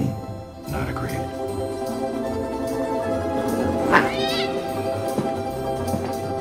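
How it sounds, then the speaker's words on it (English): A cat yowls and meows loudly amid a busy film trailer mix of music and other sounds, with one sharp rising caterwaul in the middle. "Did you just throw my cat out the window?"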